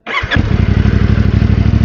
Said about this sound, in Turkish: Şimdi buradayken hemen motorun sesini dinleteyim size.